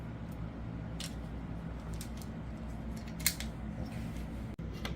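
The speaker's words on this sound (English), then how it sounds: "this is kind of like a PVC pipe cutter, and we have to trim another 1/4 inch off. So we just ratchet down" A PVC pipe cutter ratchets down to trim a quarter inch off plastic pipe, giving a few faint, close clicks and snips over a steady low room hum, with one sharper crack near the end.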